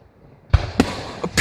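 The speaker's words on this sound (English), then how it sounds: "So many fireworks!" Fireworks on fireworks night go off in several sharp, loud bangs and crackles, spaced unevenly over a quiet outdoor background.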